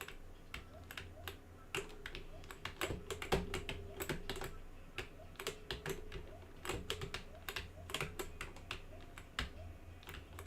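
Rapid typing on a computer keyboard used with a Mac Pro, dense uneven clicks and clacks up close, with a few louder key strikes standing out over a low steady hum, no voices.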